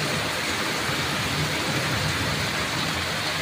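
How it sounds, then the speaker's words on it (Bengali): An unseasonal winter downpour drums down in a loud, unbroken roar of rain, with no pauses or voices. "কি অসময়ে বৃষ্টি হচ্ছে, মুষলধারে বৃষ্টি হচ্ছে"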